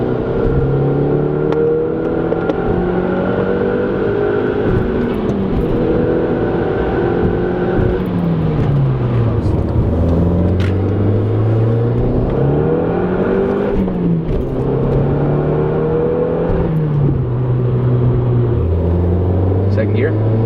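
A Volkswagen Jetta 2.0T TSI with a K04 turbo revs hard through the gears, its engine tone climbing, dropping at each shift and climbing again, loud and close from inside the car, with voices over it.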